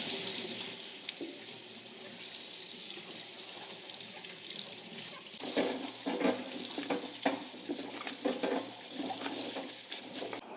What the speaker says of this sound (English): We've got these beautiful veggies we need to wash up first.